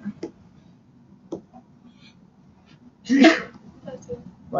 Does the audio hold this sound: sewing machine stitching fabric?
no